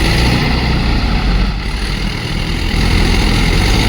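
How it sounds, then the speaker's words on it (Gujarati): A tractor engine runs loud and close at night in a flooded sugarcane field where a tractor is stuck, a steady rumbling drone that continues without a break. "ચાલુ કરી દીધેલું છે આ ટ્રેક્ટર."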